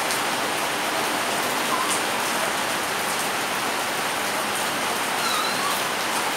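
Steady rain falls on an open yard, a dense even hiss of drops spattering the surface throughout, with no voices.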